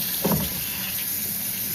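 Cold tap water runs over a cow foot being rinsed for a Jamaican cow foot and beans dish, a steady close splashing stream with a brief louder gush near the start.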